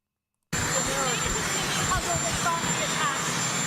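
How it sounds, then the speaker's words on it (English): A running helicopter gives a steady, continuous rotor and engine roar that starts abruptly and stays loud throughout, with voices speaking faintly underneath. "they asked him a question while the helicopter was going"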